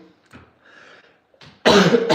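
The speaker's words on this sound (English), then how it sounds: "Sorry, coughing right now." A single loud, harsh cough near the end, preceded by quiet breathy throat sounds and faint murmurs.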